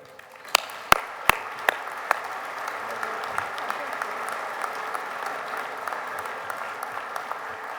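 An audience at a VFW Foundation event claps as the foundation's executive director is welcomed to the stage, opening with a few sharp close claps before settling into sustained, moderately loud applause.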